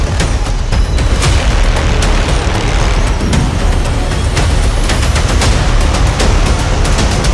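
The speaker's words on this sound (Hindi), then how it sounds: "इन ब्लास्ट की आवाजों को सुनिए। ये ब्लास्ट की आवाजें किसी आतंकी हमले की नहीं है, बल्कि खदानों में होते खनन की है" Blasting at mining quarries near a village produces a loud, unbroken roar of rumbling booms and sharp cracks, with no voices.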